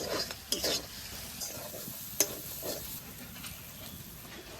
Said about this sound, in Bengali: মশলাটা আবার ভালো করে কষিয়ে নেব